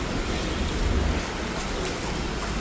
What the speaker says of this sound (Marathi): मुसळधार पावसानं जोर धरला आणि त्यामुळेच वाशी खारघर बेलापूर नेरूळ सिवुड्स तुर्भे या परिसरामध्ये चांगल्याच पावसाच्या सरी बरसल्या